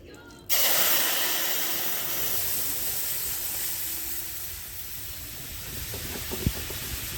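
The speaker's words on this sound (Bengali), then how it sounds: "মাছের মাথা ভাজা যে তেল ছিল ওই তেলের মধ্যে ফোড়ন দিয়ে দিব।" Dry red chillies and whole cumin hit hot oil left from frying fish heads for a mashkalai dal, setting off a sudden loud, close sizzle that holds as a steady hiss throughout.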